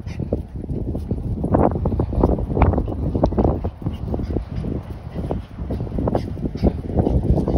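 Steady wind roars over a snowy lake and buffets the microphone throughout, a continuous rough rushing outdoors with no clear pauses.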